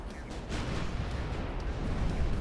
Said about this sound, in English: Absolutely detonated. There's nothing left of that ship.